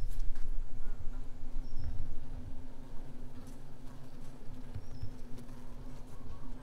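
Honey bees buzzing inside a hive box during a hive inspection, with bees up in the third box; a constant close, low hum with faint scattered rustles, no talk.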